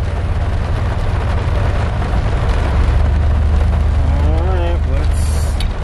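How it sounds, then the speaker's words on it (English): Heavy rain pours steadily at Perch Lake, a constant dense hiss over a low idling vehicle rumble, with a short tonal sound near the end. "It's still raining pretty heavily."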